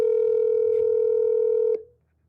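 A telephone plays a steady tone as it places a call, holding for almost two seconds before it cuts off abruptly, with no talking over it.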